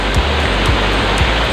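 Clear water of a small river spilling over a low fall on a rainy day, a steady loud rushing wash that fills the whole clip without a break, with faint low thumps now and then.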